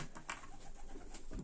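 A pigeon coos softly a few times close by, low throaty calls over faint background noise.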